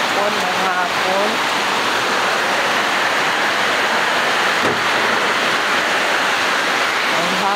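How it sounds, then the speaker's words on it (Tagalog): Loud, dense rainfall pours down in Iligan City in a constant roaring hiss, with a voice briefly audible near the start. "Dating ulan na sa iligan. Masukay ulan."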